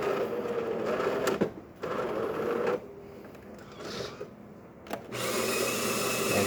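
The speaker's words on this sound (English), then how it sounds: "Now we're going to be doing an espresso shot." A Jura coffee machine grinder whirs steadily for several seconds, pausing briefly between bursts, then a louder, fuller mechanical hum starts as an espresso shot brews, all heard close up.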